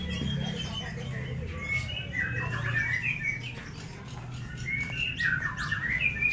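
Many small caged birds chirp and tweet in bright, repeated bursts over a steady low rumble and background murmur, as a batch of birds is readied for shipping.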